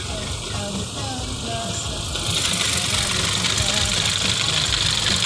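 A car engine with a faulty engine speed sensor idles roughly and keeps missing, a steady uneven chugging that grows a little louder and harsher partway through, heard up close.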